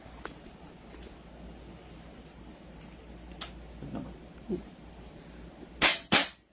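A gun under review fires two sharp, loud shots close together near the end, after a stretch of quiet room noise with faint clicks.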